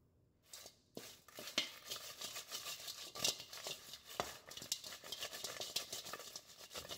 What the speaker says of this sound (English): So now I'm going to coat and dress my wings.